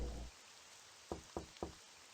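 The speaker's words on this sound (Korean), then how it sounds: "비, 비 소린가? 빗소린데 이건 꿈인가?" Rain sounds in the horror video game Kuro Oni remake: a short burst of low noise, then three evenly spaced dull taps against a faint, steady hiss.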